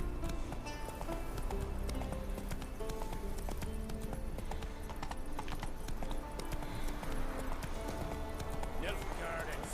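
Geralt's horse Roach gallops in The Witcher 3, rapid rhythmic hoofbeats clopping steadily beneath game music and someone talking.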